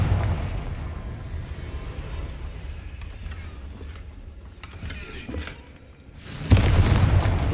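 A Confringo spell blast in the video game Hogwarts Legacy: a steady low rumble of game ambience breaks into a sudden loud booming burst near the end, which holds heavy and close.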